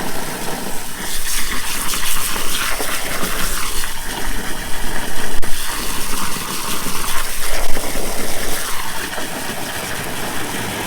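Water from a hose wetting down a freshly cemented wooden privacy fence post outdoors, a steady, loud, hissing gush that continues unbroken with slight surges and no voices.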